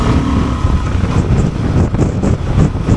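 Honda 750 Transalp motorcycle accelerating hard in third gear, a loud close engine drone with heavy wind buffeting over the microphone, steady and rising throughout.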